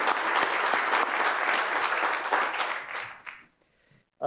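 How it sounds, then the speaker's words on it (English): A lecture hall audience at a scientific memorial lecture gives a round of applause, dense steady clapping for about three seconds that tapers off into near silence. "let's just all give them a round of applause of thanks"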